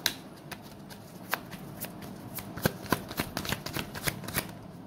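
Tarot cards being shuffled by hand, a quiet run of soft riffling snaps and flicks in an uneven rhythm, close to the microphone with no talk.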